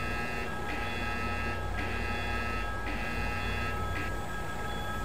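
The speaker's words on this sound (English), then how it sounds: "We have an alarm, we just acknowledge it." An alarm sounds in a Transas ERS ship engine room simulator, a repeating buzzing tone pulsing in roughly one-second bursts over constant loud machinery hum.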